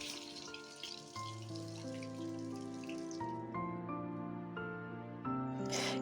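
Water runs steadily into a sink while fish is washed, with tonal ringing drips and splashes layered over a continuous close flow.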